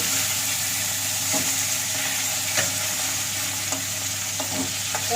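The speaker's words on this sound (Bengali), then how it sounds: "মাছটাকে এপিট ওপিট করে ভালো করে ভেজে নিতে হবে" Katla fish pieces frying in oil and being turned over, a dense steady sizzle with faint light clicks and scrapes from the utensil, close and without talk.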